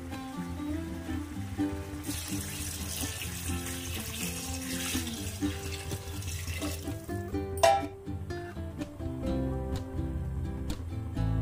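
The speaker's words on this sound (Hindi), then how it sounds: "और इसमें अब हम एक जग पानी डाल देंगे।" Water from a jug poured into a pot of yakhni chicken pulao, a steady continuous splashing pour over kitchen background sounds, ending with a brief sharp clink near the end.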